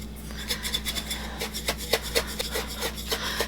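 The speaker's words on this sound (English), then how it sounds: "Lid in a ring. And give this a good shake." A lidded quart jar of coarse salt and dried spices is shaken in quick repeated bursts, giving a close, gritty rasping rhythm over a low steady hum.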